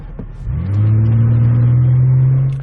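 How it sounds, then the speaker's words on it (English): A car engine revs up hard under full acceleration on an open road during a calibration drive, a loud steady roar with a rising tone that holds for about two seconds, with no voices. "Then the next time it's going to ask you to do full acceleration."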